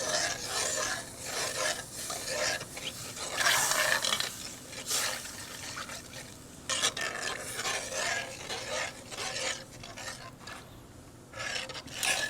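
Sliced kielbasa sizzles in a pan for mac and cheese while being stirred, with scraping and rubbing strokes that come in uneven bursts over a soft frying hiss, fairly close and without talk.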